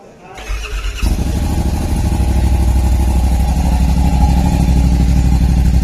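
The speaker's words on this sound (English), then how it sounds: "You hear the exhaust, the motor, you barely hear it sitting in there." A car engine cranks and catches, then settles into a steady, close idle with a smooth low rumble that continues evenly to the end.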